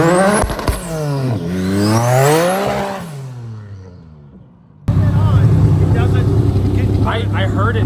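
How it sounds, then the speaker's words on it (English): A K-swapped VW Beetle's engine revs up and down in rising and falling sweeps, then settles into a rapid stuttering limiter chatter like a small two-step, loud and close throughout. "It sounds like a baby two-step."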